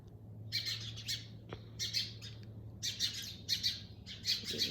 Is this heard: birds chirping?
yes